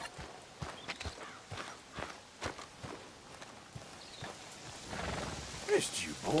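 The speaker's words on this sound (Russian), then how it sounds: "Помчались лошадки." Horses gallop in the video game Red Dead Redemption 2, a steady series of hoof thuds in a loping rhythm, moderately close, with a faint whinny near the end and no speech over it.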